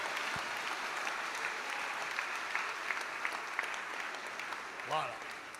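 A congregation claps and cheers at a church revival service in Martinique, dense steady applause filling the room throughout, with a brief voice rising near the end.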